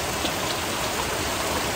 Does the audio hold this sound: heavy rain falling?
yes